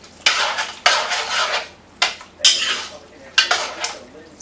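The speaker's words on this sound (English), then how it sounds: "Now we're going to stir all that up and let it continue cooking down" Spoon stirring canned diced tomatoes in a cooking pot for Cajun chicken spaghetti, several separate scraping and clinking strokes against the pot with soft simmering in between, close and clear.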